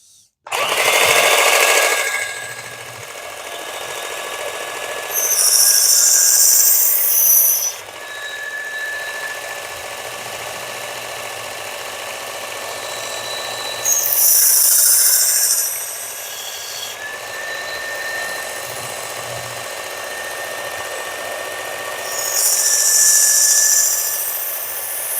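Belt grinder running steadily on an Ozark Trail knife blade with light pressure, finishing the edge, a continuous high whine with several louder bursts of grinding contact, no talk heard.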